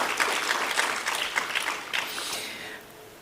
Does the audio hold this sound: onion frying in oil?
no